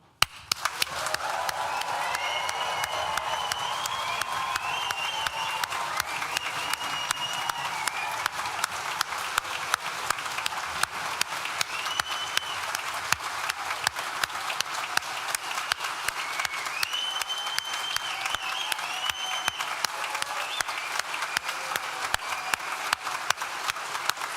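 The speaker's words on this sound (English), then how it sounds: "I want you to hoop, holler, cheer, stamp your feet as loud as you can" Graduates and guests at a university graduation ceremony cheering, clapping and stamping their feet, a sustained wash of applause filling the hall for the whole stretch, with whoops and shouts rising above it.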